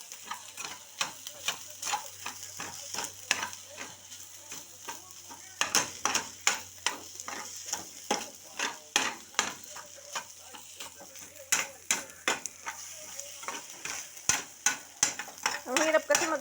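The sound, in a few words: stirring and frying egg in a pan for egg fried rice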